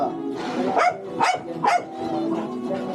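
A dog gives three quick, close barks in succession, then a lingering low whine fades out.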